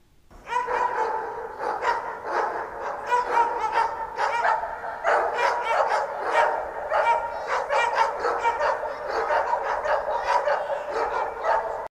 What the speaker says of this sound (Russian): В этом дворе вот уже 3 дня бегает стая собак